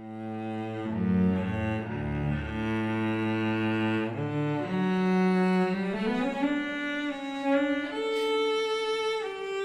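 Abbey Road Two string samples played through a big plate reverb: sustained legato orchestral string chords with rich harmonics, shifting pitch through slow phrases and quicker runs, steady and full throughout with no voices.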